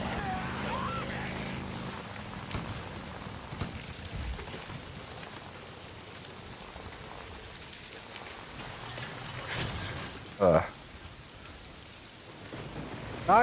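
Steady rain pours in the video game Days Gone, a constant hissing wash beneath someone talking, with a brief louder burst of sound late on.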